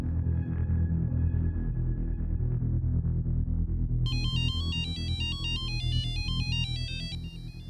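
A phone ringtone plays at night, a bright repeating electronic melody rising over a low, steady background hum and continuing to the end.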